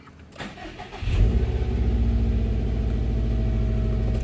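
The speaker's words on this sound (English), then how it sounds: "Now you have to start the car and you'll see the sequence there." A 2017 Subaru WRX STI engine cranks and catches at about one second, then settles into a steady, loud, rumbling idle close by, with no talking.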